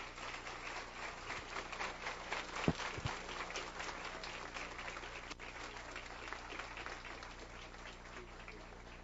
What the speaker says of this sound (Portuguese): Vamos receber com um aplauso de boas-vindas o nosso querido Jorge Maltner.